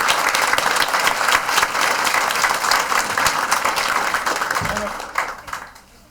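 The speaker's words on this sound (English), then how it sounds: "how about a round of applause for all of our state champion rowers?" Loud audience applause at a school committee meeting honoring state champion rowers, dense continuous clapping with some voices, fading out at the end.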